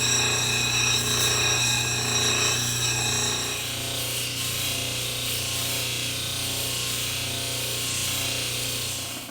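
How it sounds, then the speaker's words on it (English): A power tool polishes a stone cabochon, a steady continuous whir with faint rubbing and grinding, holding at a constant near level throughout. "The rest of it is all basically polishing, getting it smoothed out."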